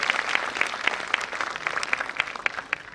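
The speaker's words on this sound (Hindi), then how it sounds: "सभी लोग जोरदार तालियों द्वारा उनका स्वागत करें।" Audience applause welcoming the chief guest at a national scientific seminar, a steady patter of many hands clapping with distinct individual claps standing out, moderately loud and without talk.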